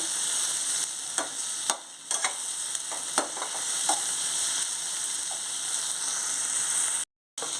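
Slit green chillies and spices sizzle in a pan for an egg and okra tamarind stew, with a close crackling hiss and repeated stirring clinks; the sound cuts out briefly near the end.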